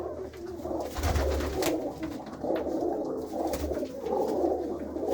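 Pigeons coo softly and repeatedly at close range, low rolling calls in a steady loose rhythm over a faint background hum, with no one speaking.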